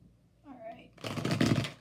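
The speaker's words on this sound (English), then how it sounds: "I'm going to start with 3 shuffles." Tarot cards being shuffled by hand, a brief quiet riffle that ends in a dense fluttering burst close up, following a short murmur of speech.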